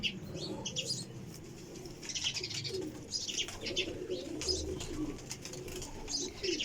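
Pigeons and their young call in a loft with a continuous murmur of cooing and faint chirps, occasional wing flutters, at moderate distance.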